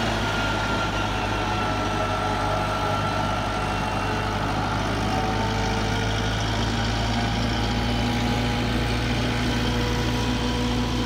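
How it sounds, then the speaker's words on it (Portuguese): A tractor engine runs steadily while clearing dirt at a beach area in Praia Grande, a continuous low heavy rumble close by and fairly loud, with no talk over it. "Tá aí o trator, continua fazendo trabalho, ó. Não terminou, tirando mais sujeira."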